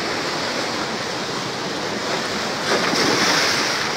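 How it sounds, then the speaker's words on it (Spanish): Sea surf on La Lancha beach roars as a steady, loud wash of waves, swelling slightly toward the end, with wind across the microphone and no voices. "Solo tenemos que respetar las mareas del mar, como en este momento."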